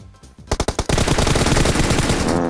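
PUBG Mobile gunfire: a few separate shots ring out, then a sustained automatic burst rattles on continuously, loud and dense, with no talk over it.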